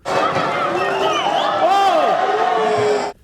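Boxing crowd at a professional undercard bout roaring rowdily, a loud sustained wave of cheers and yells that swells and then cuts off abruptly.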